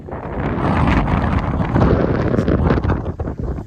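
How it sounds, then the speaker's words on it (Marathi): Strong wind buffeting the microphone at Muktinath, Nepal, in the Himalayas, in a loud, continuous roar with gusty surges and no voices. "इकडचा वारा"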